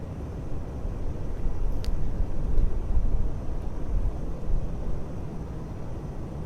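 An F-86 Sabre's jet engine spools up during startup in the DCS flight simulator, a steady broadband roar with no talk over it and a light whine running above.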